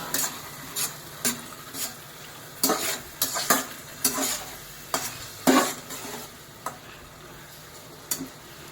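A cauliflower curry being stirred in a pan after salt goes in, with repeated scraping and clinking strokes of a spoon against the vessel over a soft sizzle, irregular but frequent, no one talking.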